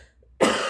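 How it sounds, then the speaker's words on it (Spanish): A single sudden cough, short and close, bursting out after a brief quiet moment while crafting paper roses. "Cuando te viene la tos de golpe"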